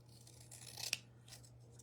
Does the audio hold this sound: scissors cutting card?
yes